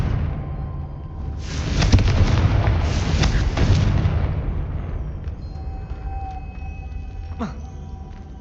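In the video game Hogwarts Legacy, the Confringo spell explodes with a cluster of heavy, booming blasts over a few seconds, followed by a fading rumble and faint ambient tones.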